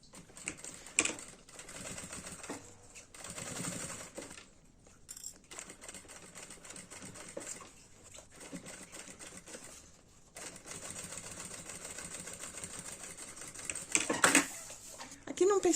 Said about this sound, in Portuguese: vou passar uma costurinha de um pé de máquina nas laterais